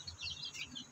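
Newly hatched Shamo Aseel chicks chirp in a brooder, a steady overlapping stream of high, thin peeping with a low background hum, moderately quiet and continuous.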